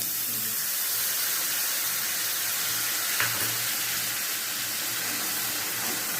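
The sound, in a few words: nigella seeds sizzling in hot oil for tempering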